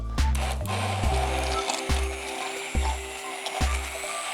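An immersion blender purees a date mixture for toffee cakes, coming on in short repeated bursts with a deep low whir, roughly five pulses spaced evenly, close and fairly loud with no talking.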